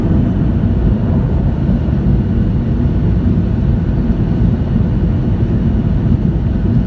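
Inside the cabin of a Norwegian Boeing 737-8, the engines hold a steady, loud, low roar as they build power before takeoff. The sound is continuous and close with no talk over it.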